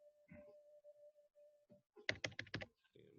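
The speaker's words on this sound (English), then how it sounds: "type in that same ticker" A burst of quick computer keyboard keystrokes types a stock ticker into a finance website, with a few scattered clicks before the rapid run of close, crisp taps.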